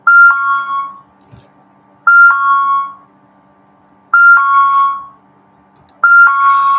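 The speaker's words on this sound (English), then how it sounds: "I hate that alarm." An alarm goes off in a repeating pattern: four loud two-tone chimes spaced about two seconds apart, each ringing briefly before cutting to near silence.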